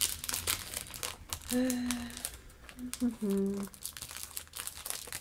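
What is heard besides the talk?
crinkling packaging as craft cards are unwrapped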